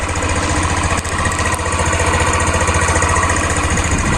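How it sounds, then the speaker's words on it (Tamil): A 2011 TVS Streak scooter engine runs at a steady idle close to the microphone, a loud, even, rapid putter with a constant hum throughout and no speech. "வண்டி இன்ஜின் பாருங்கள் எப்படி கூவுது, புது வண்டி மாதிரி."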